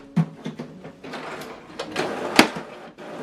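Epson WorkForce Pro WF-3820 inkjet printer initializing, with a run of mechanical clicks, whirs and short motor bursts and one sharp clack near the end. The machine sounds close and moderately loud.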